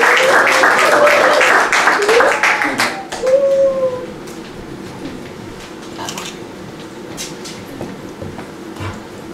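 Clapping at a Baptist church service rises in a dense burst of applause with voices and whoops, then fades within a few seconds to low room murmur and scattered claps.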